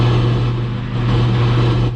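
A 2008 Cadillac XLR with a 4.6L Northstar V8 engine idles with a loud, steady low hum and slight rises in engine tone, no speech over it.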